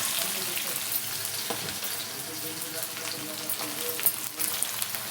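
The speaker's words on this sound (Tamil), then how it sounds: "வெங்காயம் வதங்கிட்டுங்க." Onion and dried red chillies fry in a pan, giving a moderate, continuous crackling sizzle with a few small pops and scrapes, heard alone and fairly close.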